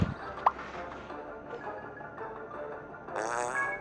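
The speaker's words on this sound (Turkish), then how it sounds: "Fasulye yedi osurdu." A cartoon fart sound effect from the Save The Girl mobile game plays as a short buzzy blast near the end, after a faint pop, over a quiet background.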